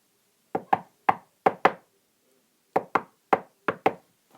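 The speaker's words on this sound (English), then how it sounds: "That knock was the Terminator theme song." Sharp knocks on a hard surface, sped up and arranged in the rhythm of the Terminator theme: two clusters of five quick raps separated by a short pause, close and crisp with nothing else heard.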